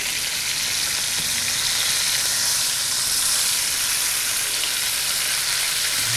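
Meat sears in California olive oil after being flipped, a steady, loud, close sizzle and crackle of frying that continues evenly with no talking.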